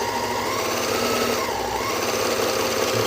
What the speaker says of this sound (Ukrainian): Дуже гарно ці верлоки шиють ролівий шов.